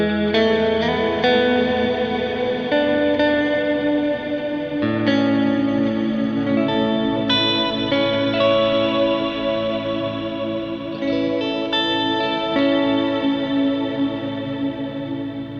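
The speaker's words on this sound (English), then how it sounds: "it's basically just a reverb, but it has an octave up. You can also put an octave down like this." An electric guitar played through a lush reverb with an added octave-down effect rings out in sustained, shimmering chords and notes, each swelling and blending into a wide wash of sound with no talking.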